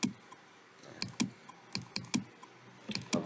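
Computer keyboard typing with a Ctrl+A shortcut: quiet, crisp key taps come in small uneven clusters about every half second, close and alone.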